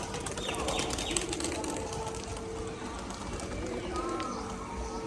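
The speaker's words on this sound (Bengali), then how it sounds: "দেখুন সেই নটটা, বিস্কুট নটটা একা একাই ডাকছে" Rajshahi pigeons kept for sale, a biscuit-coloured bird cooing on its own, with soft repeated coos over a busy background of other pigeons and faint rustling, fairly close.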